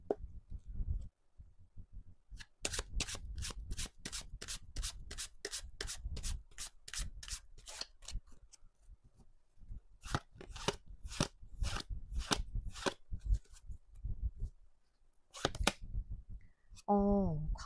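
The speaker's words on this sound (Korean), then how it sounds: "한 달 안까지로 정하고 카드를 뽑을게요" Tarot cards being shuffled and drawn make bursts of rapid, evenly spaced riffling flicks at close range, separated by quiet gaps, with soft handling noises in between.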